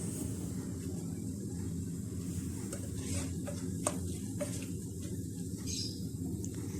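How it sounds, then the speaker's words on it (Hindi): Tempering spices for kadhi frying in a pan, a steady low sizzle and crackle that runs the whole time with small clinks and scrapes of stirring. "और अब मैं इसको तड़के को तैयार कर रही हूँ।"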